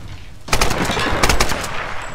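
Bursts of rapid automatic gunfire from enemies in the Tomb Raider video game, two loud volleys a moment apart with a dense rattling tail between them.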